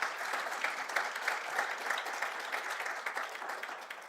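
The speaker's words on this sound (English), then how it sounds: "I think they deserve another round of applause." Steady audience applause fills a closing ceremony hall at a health convening, dense overlapping claps holding at an even level throughout without any speech.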